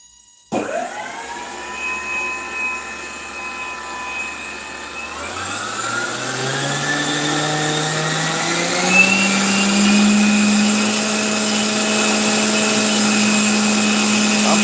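An Aero Foam L-39 radio-controlled model jet spools up from a quiet start into a loud, steady electric ducted-fan whine that climbs in pitch over several seconds, then holds at a high, even roar.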